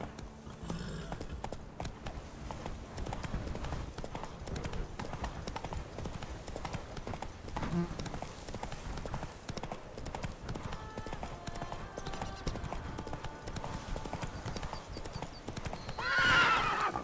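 Horse hooves galloping in The Witcher 3 video game, a continuous rapid clip-clop rhythm at moderate distance, with a brief whinny and faint game effects and music beneath.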